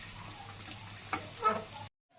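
Ginger pieces fry in oil for tamarind pulihora with a faint, brief sizzle and a couple of light stirring touches before the sound cuts off.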